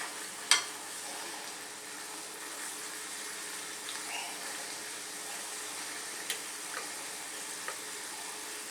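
Corn tortilla frying in hot oil into a taco shell, a steady soft sizzle running throughout with a few faint clicks and taps; no one speaks.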